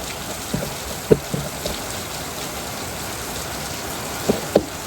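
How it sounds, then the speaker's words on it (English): Soft, steady rain patters in the background, with a few faint drips and taps standing out now and then. "It's been raining all week."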